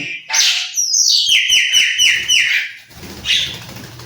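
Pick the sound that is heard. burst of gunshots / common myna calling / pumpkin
common myna calling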